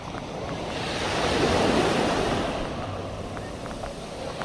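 Sea waves rolling onto a beach at a resort, a steady broad wash of surf with wind noise on the microphone, swelling louder in the middle before easing off.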